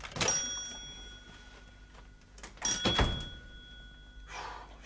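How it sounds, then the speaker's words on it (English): A door is handled in a sitcom scene aboard a boat on a loch, giving a sharp knock near the start and a second, louder thud and rattle about halfway through, with a soft rustle near the end and no talk. "I'll get the door, lassie."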